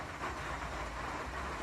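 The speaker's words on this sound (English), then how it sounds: "That's the sound of the rain." Heavy rain pouring steadily in the dark at 5 a.m. on a hiking trip, a dense, continuous broadband roar with no breaks, close and loud and fairly even throughout, with no voices.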